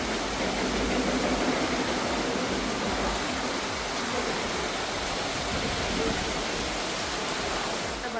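Heavy rain pouring down outside a balcony, a dense, steady broadband roar that stays constant and loud throughout with no breaks.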